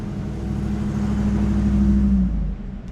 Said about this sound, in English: so there's a lot of traffic going by.